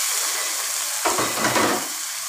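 Chopped tomato and a splash of water hit onions already fried in a pan, setting off a sudden loud sizzle and hiss as a spoon stirs for about a second before the frying settles to a steady background crackle.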